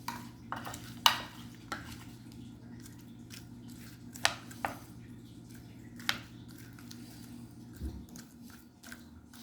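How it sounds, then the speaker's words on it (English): Bacon pieces mixed into a bowl of mashed potatoes, giving soft squishy stirring and a few scattered utensil clinks over a steady low room hum, with no talking. "my bacon is up, and I'm going to mix it in here."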